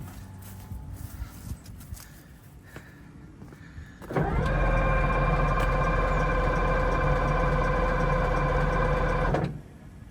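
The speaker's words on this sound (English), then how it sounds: "I'll try starting it again" After a few seconds of quiet shuffling, an abandoned APC's engine is started with a loud, steady whining drone that holds for about five seconds and then cuts off abruptly.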